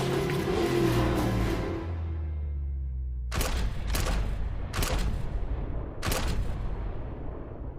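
Several loud gunshots ring out close by, four sharp blasts spaced irregularly over a few seconds, following a stretch of rumbling noise with no talk.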